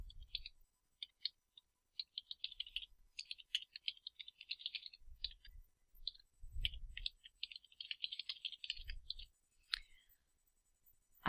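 Typing on a computer keyboard, with close, quiet clicking keystrokes in quick irregular bursts and short pauses and a few faint thumps.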